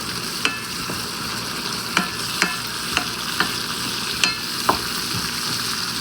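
Grease sizzles loudly and steadily in a frying pan while filling for an enchilada casserole cooks, with occasional sharp scraping clicks of a utensil stirring against the pan, close by and without talk.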